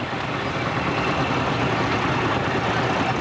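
A 1952 Ferguson TED20 grey tractor idling at a steam rally and country fair, a steady, loud low engine rumble with even broadband noise throughout, unbroken and without speech.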